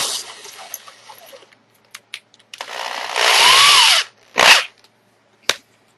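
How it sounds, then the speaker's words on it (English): A power drill with a 1/4 inch bit drills in short bursts with pauses between, then a longer loud run and two brief final spurts, close by with no talk. "I'm going to want to use a 1/4 inch drill bit"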